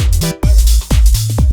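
Stabby sub-bass synth notes in a 90s old-skool UK garage production: short, punchy low stabs with a quick pitch drop, played in a syncopated bum-ba-dum pattern, loud and upfront with no voices.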